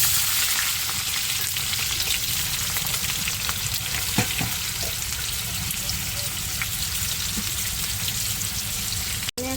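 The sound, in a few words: chopped tomatoes added to a frying pan, sizzling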